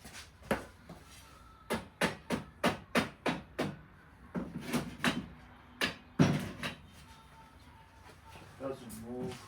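A workpiece is clamped down before welding, with a quick series of sharp ratcheting clicks and metallic knocks up close, followed by a few heavier clunks.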